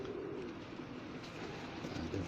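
A racing pigeon coos softly and at a distance, low and muffled beneath steady outdoor background noise.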